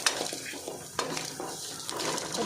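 Masala for chicken curry fries in a pan with a soft, steady sizzle, broken by occasional light scrapes and stirring clinks close by.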